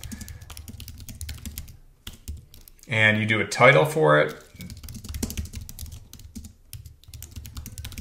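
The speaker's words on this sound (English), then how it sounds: "Basically, you click new specification and you just start typing." Keys clatter on a computer keyboard in quick, light, irregular taps throughout, quiet and close, while someone talks over them.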